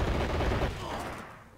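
A short burst of gunfire from a vehicle in Men of War: Assault Squad 2, a World War II strategy game: a loud rattle of shots that quickly fades into a fainter, decaying tail.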